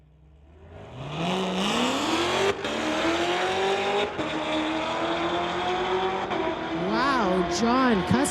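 A 2016 Corvette and a Hemi-powered 392 Dodge launch in a street-legal drag race, engines rising in a long, loud roaring climb through the gears, with tire chirps and a sharp pitch swing near the end.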